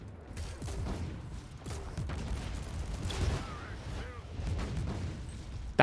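Grenade launcher shots in the video game Warhammer 40k Inquisitor Martyr, repeated booming launches and blasts amid mechanical combat clatter, moderately loud and continuous, with a brief voice-like bit near the end.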